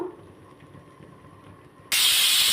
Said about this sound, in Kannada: ಇದಕ್ಕೆ ಒಂದು ವಿಷಲ್ ಕೂಗಿ ಎರಡು ವಿಷಲ್ ಕೂಗ್ತು